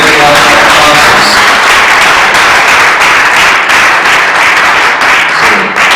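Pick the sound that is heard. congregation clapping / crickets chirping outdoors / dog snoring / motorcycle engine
congregation clapping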